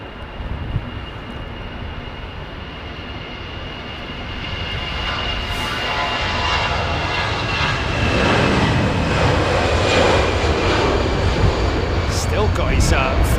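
A large airliner passes with its flaps and slats fully extended, a broad, steady roaring rumble that slowly swells louder across the clip, with no talk over it.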